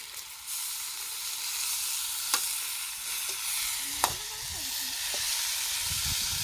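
Chicken gravy ingredients fry and splatter in hot oil, a steady loud sizzle with a few sharp pops and clinks of a utensil against the pan.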